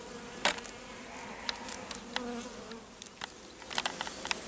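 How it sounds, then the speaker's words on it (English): Honeybees buzzing around an open hive during an inspection, with bees from a nucleus colony moving in; a steady, close insect drone with scattered louder buzzes as individual bees pass near. "So there may be a bit of fighting with the bees from the nuke coming through here."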